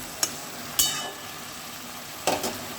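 A spatula stirring bottle gourd in a pan, three distinct metallic scrapes and knocks spaced over a soft, steady sizzle, heard up close.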